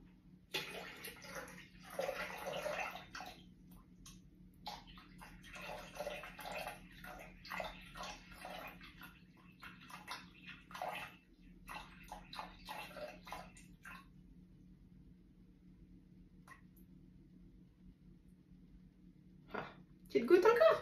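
Tap water runs into a Thermomix bowl while a steamed marble cake is being prepared, a steady splashing hiss in short bursts under a woman's speech that pauses and resumes, with a clunk near the end.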